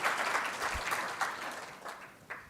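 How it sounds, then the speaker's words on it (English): Students in a lecture hall give a brief, fairly faint round of applause at a Norway–Kenya public lecture, a soft wash of scattered clapping. "Give yourselves a round of applause"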